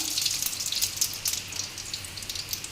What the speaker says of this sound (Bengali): এইবারে গোটা জিরে ফোড়ন দিলাম